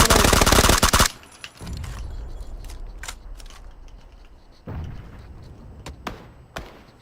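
In PUBG, a burst of rapid automatic gunfire opens loud and close, followed by scattered single shots and thumps over a background of game noise.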